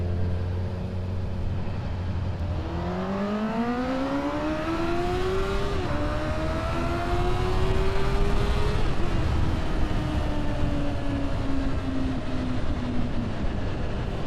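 A Honda Hornet motorcycle fitted with a LeoVince sports catalyst exhaust revs up, its engine note rising and sliding in pitch over a steady rumbling idle, loud and close with no talk.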